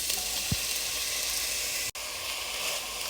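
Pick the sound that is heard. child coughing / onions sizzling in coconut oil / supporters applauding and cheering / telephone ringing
onions sizzling in coconut oil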